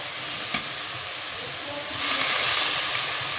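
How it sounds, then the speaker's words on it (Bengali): Water poured into a hot pan of fried tomato and spices for a Bhola fish curry sets off a loud, sustained steamy hiss that swells over a constant background of frying, close up with no talk. "প্রয়োজন মতন জল দিয়ে দিলাম"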